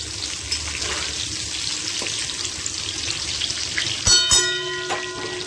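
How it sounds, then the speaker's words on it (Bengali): Pointed gourd (potol) sizzles steadily in oil in a pan, a close continuous hiss broken near the end by a few louder clinks and scrapes of stirring. "পটলটা ভালো করে নেড়ে ছেড়ে ভেজে নিতে হবে।"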